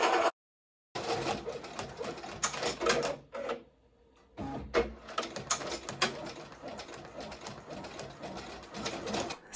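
A home embroidery machine stitching a whisk design onto an apron, rapid rhythmic mechanical clatter in close bursts with a brief pause partway through.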